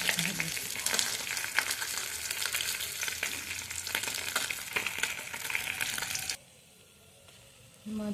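Turmeric-rubbed koi fish, the climbing perch, fry in hot oil in a kadai with a loud, steady sizzle and crackle for about six seconds, then the sound drops away almost to quiet before a faint return.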